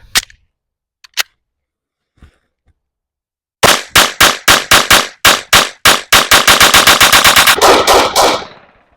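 A PSA Rock pistol with a cut slide empties a magazine: after some faint handling clicks, loud close shots come in an uneven string that speeds into a rapid burst before stopping.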